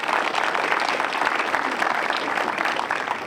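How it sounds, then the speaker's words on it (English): Dense, steady applause from a large audience at a university campus ribbon cutting, honoring the first entering class of students, sustained evenly throughout without voices. "I think those students need a round of applause."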